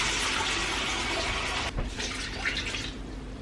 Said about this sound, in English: And then just go ahead and fill that up with water as well.